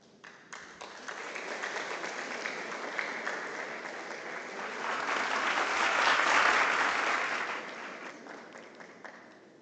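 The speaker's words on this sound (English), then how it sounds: "With a round of applause, please." Audience applause at an education award ceremony as a winner is called forward, a steady wash of many hands clapping that swells to a peak midway and then eases off, with no talk over it.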